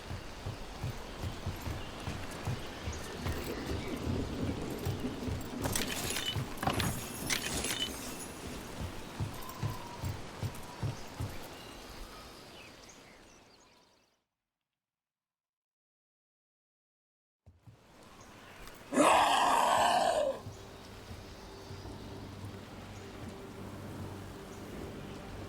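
Rain patters steadily in the fantasy game Dragon Age: The Veilguard, mixed with footsteps and thumps, then cuts to silence before a brief loud burst and quieter ambience return.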